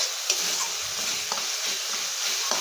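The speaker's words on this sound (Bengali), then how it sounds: "জল দিয়ে ভালো করে কষিয়ে নিচ্ছি আমি একটু" Spice masala being stir-fried with a little water, a constant bright hiss of sizzling close by, with soft scrapes of stirring scattered through and no voices.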